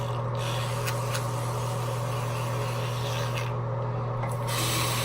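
A toothbrush scrubs along a tongue in quick, rough back-and-forth strokes, close to the microphone over a constant low electrical hum, with no talking.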